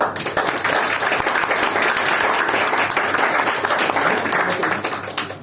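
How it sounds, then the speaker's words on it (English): Steady applause at a Toastmasters club meeting in Brunei, many hands clapping in a thick, even wash that holds loud across the stretch and tapers slightly at the end. "Can we please all give Richard and I a round of applause?"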